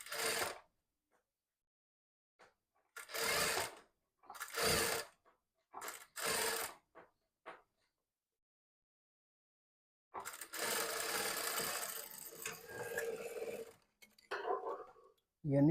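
A sewing machine stitches a blouse in fast bursts of rapid mechanical clatter, stopping and starting several times, then running in one longer stretch, close and clear.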